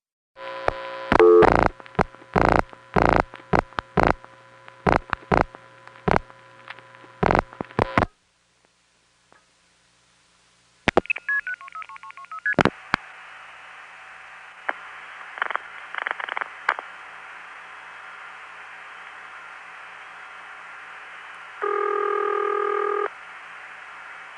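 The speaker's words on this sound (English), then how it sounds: "That's an unusual ring for an NX1, but not for an independent." A 1970s long-distance telephone call routes through to an independent exchange in Wellsboro, Pennsylvania: a rapid run of clicks and signaling pulses, a pause, then a steady line tone with chirps and a distinct buzzing ring near the end.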